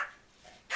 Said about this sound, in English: And the loud barking.